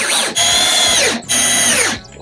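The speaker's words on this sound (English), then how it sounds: "Pre-drill. Mega screws." A power drill pre-drills holes for large screws while building a garden entrance, giving two loud, sustained whirring bursts that wind down between and after them.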